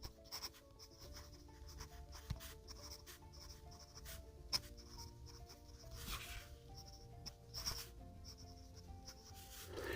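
Pilot Custom 823 fountain pen with a medium nib writing on paper, faint scratchy strokes in short irregular bursts, quiet and close with no talk.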